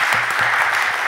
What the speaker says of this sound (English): let's give her a round of applause for her leadership